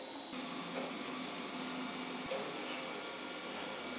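A Roborock Q8 Max+ robot vacuum cleaner hums faintly and steadily indoors, with a couple of soft bumps and clicks.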